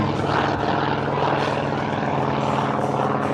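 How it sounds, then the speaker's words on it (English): An F4U Corsair propeller warplane on its takeoff roll at the Joint Base Andrews air show, a loud, continuous throbbing radial engine and propeller roar with slight pitch swells, heard from a moderate distance. "Here goes Jim Tobul on takeoff roll now. In the F4U, the Corsair"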